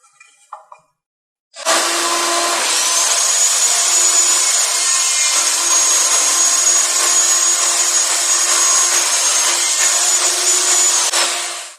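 Table saw blade ripping through wood to cut a rabbet for a wall shelf's backer board, making several passes with a 1/8-inch kerf; a loud, steady, high whine runs continuously for about ten seconds after a short start.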